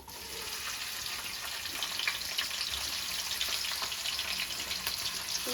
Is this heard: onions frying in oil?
yes